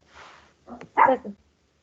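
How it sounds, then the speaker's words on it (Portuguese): A small pet dog barks indoors during an online chemistry lesson, giving a few short yips in quick succession at close range with no talk over them. "minha cachorrinha apareceu aqui"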